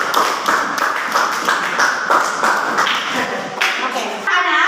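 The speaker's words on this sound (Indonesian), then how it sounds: "Kita beri tepuk tangan." A classroom group claps hands together, a small uneven burst of close, sharp claps in loose rhythm that thins out toward the end, with a brief voice at the close.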